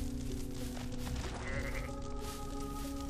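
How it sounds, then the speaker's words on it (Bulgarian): Sheep in the video game Goat Simulator bleat in wavering, drawn-out cries over a dense game background, loud and close, with no one talking. "Это овца!"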